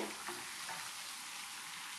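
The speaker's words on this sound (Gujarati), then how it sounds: "આ રીતે જલેબીને બંને બાજુ ફેરવતા જઈને આછા બદામી કલરની અને ક્રિસ્પી તળી લેવાની છે" Jalebi frying in hot ghee gives a dense, steady sizzle that fills the whole stretch, close and even, with no speech over it.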